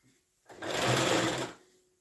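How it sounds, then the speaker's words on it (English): Home sewing machine stitching a notched sleeve cap to the shoulder of a boy's shirt, one smooth motor run of about a second, close and fairly quiet, with faint ambient noise before and after. "I'll just be sewing the two like that"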